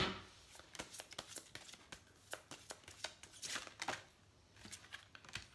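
Tarot cards are shuffled by hand close by, giving a quiet, irregular run of crisp riffles and taps.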